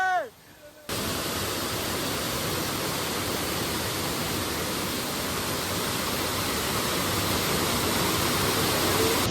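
A hidden waterfall at Anakulam, Munnar, roars as a loud, dense, unbroken rush of falling water that fills the scene from near by after a short quieter moment at the start.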